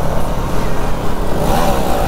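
A KTM Duke 390 motorcycle revs steadily through a wheelie on an open road, a loud continuous engine drone with a slight rise in pitch near the end and no talk.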